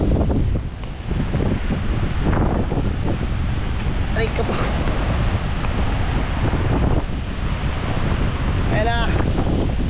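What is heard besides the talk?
strong super typhoon wind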